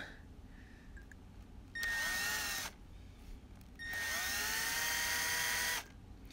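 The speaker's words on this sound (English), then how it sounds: "We're just gonna start using the drill." A power drill whines in two bursts into a broken bolt on a Kawasaki FX751V engine, a short one then a longer one, rising in pitch as it bites, with quiet pauses between.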